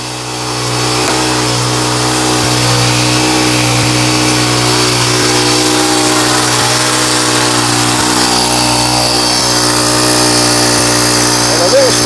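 Honda GX22 bush cutter engine idling fast, a steady loud mid-pitched drone with a strong harmonic hum, holding nearly constant for about twelve seconds after a short start.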